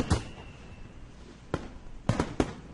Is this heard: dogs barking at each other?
no